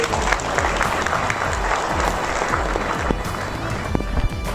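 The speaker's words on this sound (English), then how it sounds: "So another round of applause, please" An audience applauds loudly and continuously, a dense wash of clapping that fills the room for several seconds.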